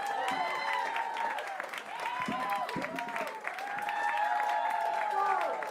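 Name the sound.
applause for comedian at comedy festival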